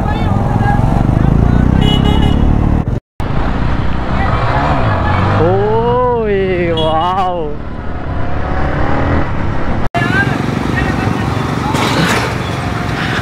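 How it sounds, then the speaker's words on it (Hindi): Motorcycle engine revving hard during a long wheelie stunt, loud and close with rising and falling pitch sweeps, under steady background babble of onlookers. "तो अभी हम फिर से व्हील उठाएंगे इनके लिए"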